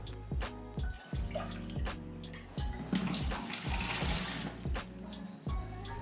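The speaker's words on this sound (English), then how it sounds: "Mix everything together thoroughly and pour into disinfected fermenter." Glucose solution for a homemade Czech lager is poured into a disinfected beer fermenter, giving a close, gurgling splash of liquid broken by several sharp knocks and clunks, with no talking.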